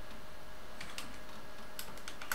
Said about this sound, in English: So you type the following command and then you type the computer name